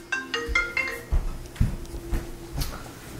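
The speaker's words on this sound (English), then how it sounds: "I think I'm getting a phone call." A phone ringtone plays a short repeating melodic pattern of bright electronic tones, clear and close, with several quick bursts early on and a few softer thumps and clicks following.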